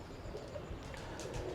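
Ferozpuri pigeons coo softly and steadily in a loft, low murmuring calls layered under a constant background hum with no pauses.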